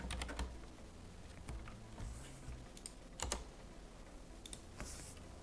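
Fingers tap quickly on a computer keyboard in irregular bursts of crisp clicks with short pauses between them, close and fairly quiet.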